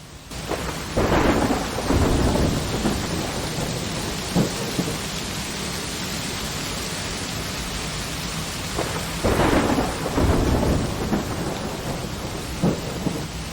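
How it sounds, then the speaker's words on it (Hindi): Thunderstorm with heavy torrential rain, a steady dense roar of downpour broken by several loud thunder rumbles and cracks, no voices. "मौसम बहुत खराब हो चुका है। इतनी तेज मूसलाधार वर्षा!"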